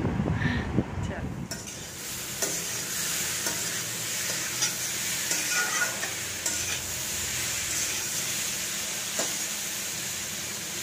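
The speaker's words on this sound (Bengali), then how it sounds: "কুমড়ো আলু ভাজা," Pumpkin and potato frying in a pan, a continuous close sizzle with scraping stirs throughout, opening with a brief low clatter before settling into the steady hiss.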